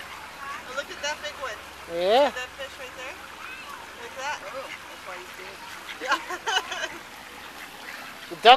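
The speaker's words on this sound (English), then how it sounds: "Ducks and the fish have to fight for the food." Ducks quack repeatedly around a pond with flowing water, a few loud close calls among scattered fainter ones, while people talk over them.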